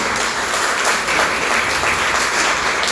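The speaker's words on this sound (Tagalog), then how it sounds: "Bigyan natin ang malakas na palakpak sa Kanya" Church congregation in Calamba City, Laguna, applauding the Lord at a morning service, a full, steady roar of many hands clapping throughout with no talk.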